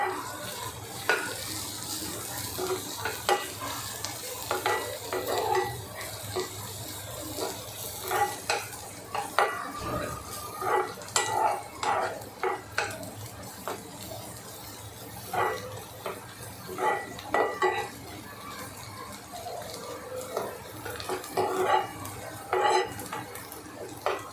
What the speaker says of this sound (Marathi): थोडा कांदा भाजत आला की त्यामध्ये आलं लसूण पेस्ट टाकून घेऊया. ते पण छान असं भाजून घ्यायचं.